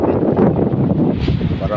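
Outdoor wind buffeting a microphone as a steady low rumble, with faint speech mixed in.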